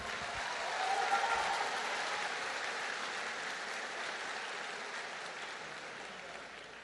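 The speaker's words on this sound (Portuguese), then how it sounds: "Dá uma salva de palmas para o nosso Senhor." Congregation applause during a church worship service, a soft, wash-like rush of many hands clapping that holds steady at a distance, faint and diffuse throughout.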